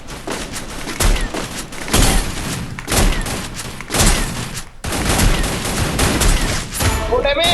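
Gunfire in a video game, including sniper shots, with loud, dense bursts of shots and booms going off almost continuously and overlapping one another.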